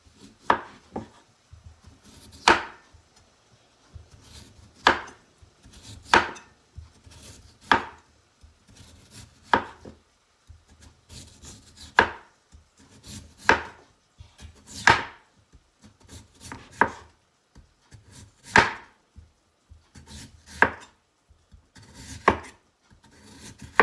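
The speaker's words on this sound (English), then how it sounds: "I'll slice 2 big potatoes." A knife slices through two big potatoes, giving a steady series of about eighteen crisp, evenly spaced cuts. The strokes are close and clear, with no voices over them.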